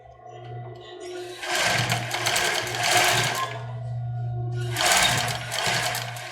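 A domestic sewing machine set to a small zigzag stitch runs in two steady whirring bursts, close and alone, with a short pause between them.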